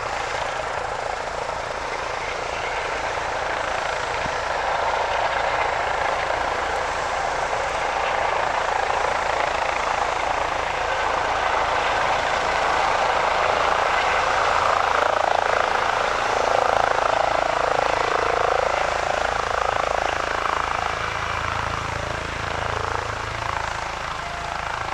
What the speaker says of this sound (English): This is a 2-helicopter scene, which you'll get a little bit of an idea.